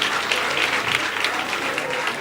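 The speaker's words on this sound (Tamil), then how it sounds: "அந்த நாட்டிய மணிகளுக்கு முதலில் நல்ல கைத்தட்டு பாராட்டு" Audience applause for dancers at a closing ceremony in Chennai, a loud, dense, steady clapping that carries on without pause and swells slightly at the very end.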